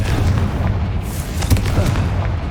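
The Confringo fire spell blasts in the video game Hogwarts Legacy with a dense, booming explosive roar that rumbles continuously with a few sharper pops.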